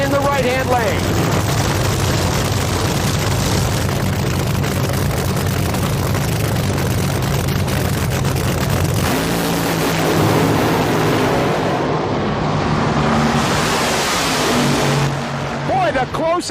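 Top-fuel drag race final with the Hawaiian Punch car and Dominic Santucci's Black Magic Thunderbird, a deafening sustained nitro engine roar filling the strip for the whole pass, shifting pitch midway as the cars thunder past, with an announcer talking over it.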